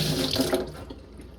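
Tap water runs steadily into a sink for mixing sourdough, loud and close for about half a second, then drops off to a faint trickle and quiet.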